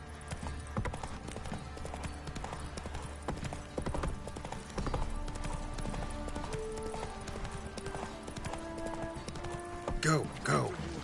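Roach, the horse in The Witcher 3, clip-clops along in rhythmic hoofbeats throughout, with game music and effects underneath and a short whinny near the end.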